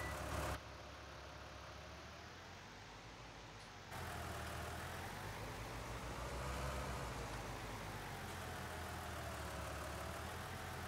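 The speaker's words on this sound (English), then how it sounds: "the engine sounds pretty good" A steady, low Ford 40 Series tractor engine in Farming Simulator 19 idles continuously with a constant rumble and no pauses, the tone shifting slightly partway through.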